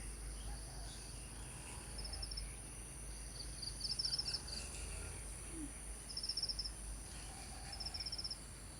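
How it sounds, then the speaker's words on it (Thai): Crickets chirp in a flower garden with chrysanthemums and hibiscus: faint, high, rapid trills come in short repeated bursts over a soft steady background hum. "มีเสียงจิ้งเรีดนิดนึง"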